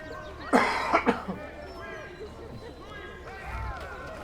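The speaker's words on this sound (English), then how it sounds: "It's now been like 2 weeks and I'm still coughing" A person coughs several times in a short harsh burst early on, then goes quiet under faint background sound.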